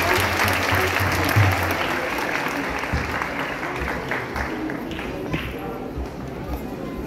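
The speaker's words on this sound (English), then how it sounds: "Can we give another big round of applause for?" A crowd at a Gaura Purnima lecture at ISKCON Toronto breaks into sustained, full applause, dense and even throughout, with some murmuring voices mixed in.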